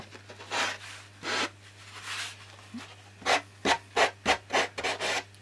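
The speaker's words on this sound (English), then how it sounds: "just use handheld sandpaper" Handheld sandpaper rubbed by hand over a model aircraft wing part, a series of short rasping strokes, slow at first then quicker and evenly spaced, close and fairly quiet over a steady low hum.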